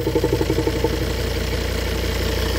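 A used car's engine idles with a steady low rumble and a faint rhythmic ticking throughout from a vacuum leak, no voices.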